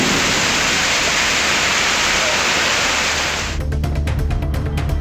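Heavy rain pouring down in a broad, steady hiss that fills the first three and a half seconds, then abruptly cuts to a quieter, choppier wash.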